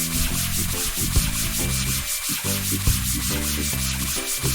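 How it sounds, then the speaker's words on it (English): In Archeology Simulator, a bone gets scrubbed clean with a continuous rhythmic rubbing, squeaky, squeegee-like drag, steady and close without any talking. "And then that horrible squeegee sound."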